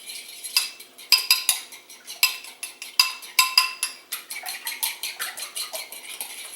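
A fork beating in a small bowl, rapid clinking strokes of metal against the bowl in a quick steady rhythm, close and fairly loud, with no talk.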